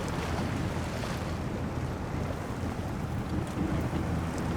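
A Tuz 420 Tatarin truck plowing through deep water in SnowRunner, a dense, continuous rushing wash of splashing water and engine rumble, loud and unbroken throughout.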